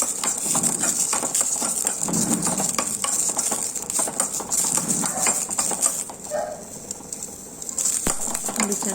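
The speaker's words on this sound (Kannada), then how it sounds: "ಮೊದಲಿಗೆ ನಾನು ಒಂದು ಕಡಾಯಿ ಇಟ್ಕೊಂಡು ಹಸಿಮೆಣಸಿನ್ಕಾಯಿನ ಚೆನ್ನಾಗಿ ಹುರ್ಕೊಳ್ತಾ" Green chilies fry in a kadai for a North Karnataka okra chutney, a close, continuous sizzle with stirring scrapes and occasional clinks of a utensil against the pan.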